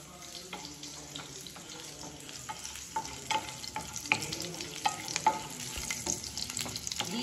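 Garlic cloves and dried red chillies fry in oil with a soft crackling sizzle, while a spoon stirs and taps against the pan in irregular clicks, up close and fairly quiet.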